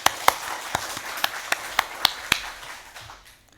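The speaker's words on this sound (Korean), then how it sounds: "우리 하나님 앞에 영광의 박수 올려드리십시다." A church congregation at a Sunday worship service claps in a sharp, evenly spaced rhythm of roughly a dozen beats. The claps fade out toward the end and are heard alone, with no talk over them.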